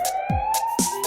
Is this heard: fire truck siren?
yes